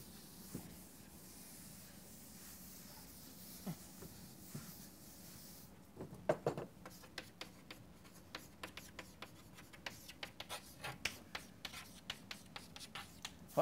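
A pen or marker writes by hand in a quiet room with faint, scratchy strokes. The first half is soft and sparse, then busier, sharper taps and scratches come in rapid bursts.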